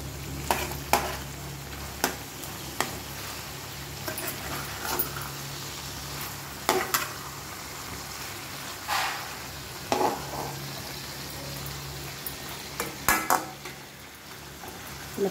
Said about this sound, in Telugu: ఇలా ప్రెస్ చేసుకుంటూ ఫ్రై చేసుకోవాలి, అప్పుడే బాగా మగ్గుతుంది